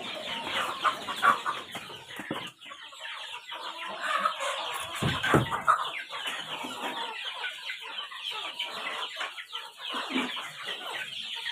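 Free-range village chickens cluck and murmur steadily throughout inside the coop, a busy layered flock chatter with occasional louder calls up close and no talking.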